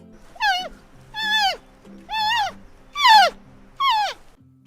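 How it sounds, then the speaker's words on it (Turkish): Five separate high, bleating calls from a panda, evenly spaced and rising then falling in pitch, heard close and clear over quiet background. "Pandalar böyle ses çıkarır"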